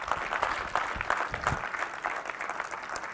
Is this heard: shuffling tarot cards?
no